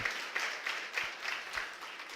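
A church congregation applauds in praise during a Portuguese-language worship service, a steady, fairly quiet wash of clapping with soft periodic swells, heard from a distance.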